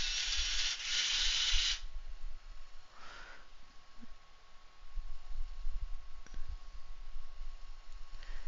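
A Canary Yellow Verithin colored pencil is sharpened, giving a close, bright grinding rasp for under two seconds, followed by quieter scraping and faint handling noises with no speech.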